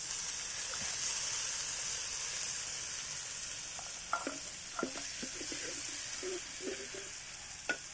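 Masala paste for kanthari chicken sizzles and fries steadily in a pan, with a broad hiss throughout and scattered scraping stir clicks near the end.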